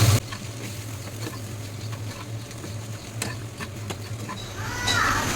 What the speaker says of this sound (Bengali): শুকনো মরিচ দিয়ে একটু বাগার দেবো।